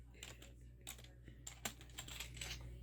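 A dog paws at a computer keyboard, producing a scatter of quiet, irregular key taps and clicks over a low steady background hum.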